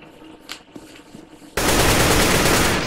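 Gunfire in a competitive online shooter match: a few faint clicks and taps, then a sudden loud burst of rapid automatic fire that fills the rest of the moment without voices.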